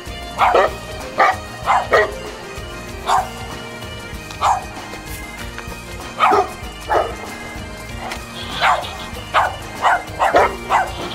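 A dog barks repeatedly outdoors in Abadín along the Camino del Norte, with sharp yaps in irregular clusters over steady background noise, fairly near and loud.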